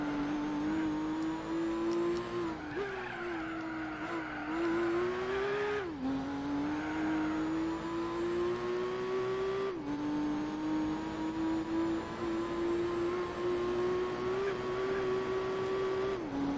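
An FPV F6 racing car in Gran Turismo 4 at the Nürburgring during an endurance race, its engine droning steadily at high revs with gear shifts and pitch dips, loud and continuous with no talk.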